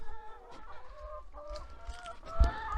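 Several village hens cluck softly and chatter in a steady, overlapping murmur, with a brief louder knock or thump near the end.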